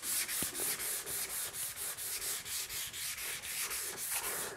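Hand sanding a guitar's finish with 600-grit paper on a block, steady rhythmic back-and-forth rasping strokes about four per second, close and even throughout with no talking.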